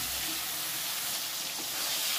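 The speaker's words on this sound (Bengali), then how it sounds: "এবার এই তেলের মধ্যেই কিছুটা টমেটো আমি ভেজে নেব" Tomato pieces frying lightly in hot oil in a home kitchen for aloo dopiaza, giving a steady close sizzle with soft crackles throughout and no talking.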